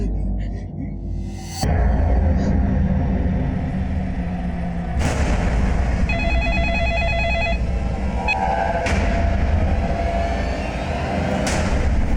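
A telephone rings in short repeated electronic bursts partway through a tense police crime drama scene, sitting over loud, booming background music and rumble, with no clear talk.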